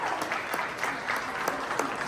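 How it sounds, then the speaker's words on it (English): A small group gives a round of applause after a tater tot eating contest: soft, distant clapping with a few sharper claps standing out in a steady patter. "Let's give everybody a big round of applause."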